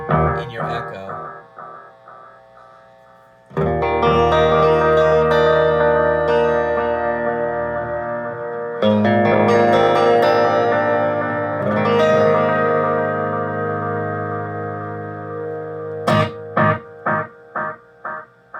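Tape-style echo repeats from a Nocturne Mystery Brain BS-301 effects unit on sustained played tones, ending in a loud, rhythmic string of repeats that fade one after another, with the low end thinning as the tape repeats degrade.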